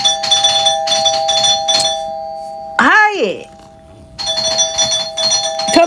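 A home doorbell rings with bright, repeated electronic chime tones, broken in the middle by a brief spoken reply before the chime pattern resumes, close and loud.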